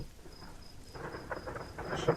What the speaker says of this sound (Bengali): শুধু জোনাকির হালকা আলো আর দূরে বাজ পড়ার শব্দ